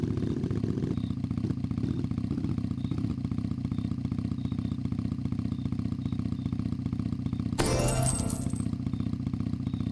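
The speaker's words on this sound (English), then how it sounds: "Oh my god, the turning radius of this motorcycle is very wide." A motorcycle engine in a top-down delivery video game idles with a low steady rumble, then a sudden sharp clattering crash bursts in briefly near the end.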